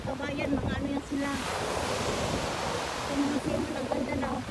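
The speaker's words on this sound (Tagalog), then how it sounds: "Bagsak ng alon." Surf breaking on a beach shoreline, a broad steady wash of waves that swells and recedes, with someone talking intermittently over it and wind buffeting the microphone.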